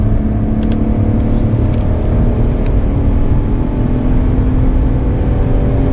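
A car at full throttle on the Bedford Aerodrome race track, its engine a loud, steady, close-up drone with layered harmonics that holds without pause throughout.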